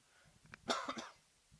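A single short, harsh cough from a commentator during live football match commentary bursts out, close and fairly quiet, with faint breaths just before it.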